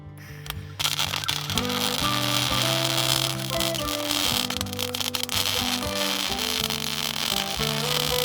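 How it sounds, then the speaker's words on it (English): Arc welding on cracks in a tractor digger bucket crackles and sizzles loudly and continuously after a brief quiet start, with a steady low hum running underneath. "That's an opportunity to test out our new welder."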